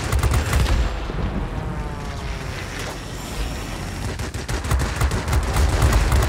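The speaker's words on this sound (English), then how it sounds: "The ballistics of these guns are not exactly fantastic, but they're still hitting the targets." Aircraft cannons on an IL-1 attack plane fire in rapid bursts in World of Warplanes over a constant engine drone, loud and close, with the firing thickening toward the end.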